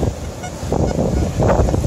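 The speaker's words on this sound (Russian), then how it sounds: "Вот в такой ливень мы попали." Gusting wind roars during a heavy downpour beside an old castle, rough broadband buffeting swelling and easing in surges, loud and close against the microphone.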